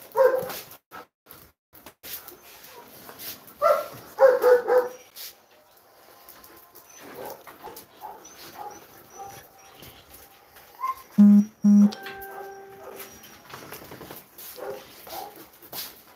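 Female huskies at a dog farm bark in bursts, some yips and whimpers mixed in, with other dogs answering nearby across the pen.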